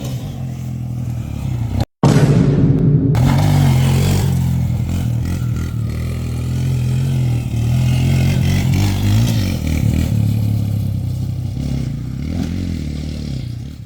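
A dirt bike engine roars and revs loudly and steadily on a backyard cross-country track in the woods, with a brief cut partway through as it takes small jumps and rollers.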